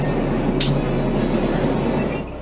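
Passenger train on the New York to Washington, D.C. line, heard as a steady loud rumble of rolling stock with a brief hiss partway through, fading slightly at the end, with no voices.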